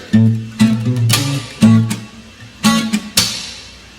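Reggae guitar chord, mute and slap pattern played on another string, repeated. Evenly spaced chord hits alternate with sharp, bright percussive slaps, close and unaccompanied.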